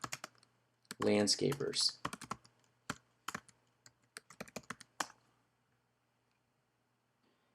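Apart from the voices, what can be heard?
typing on a computer keyboard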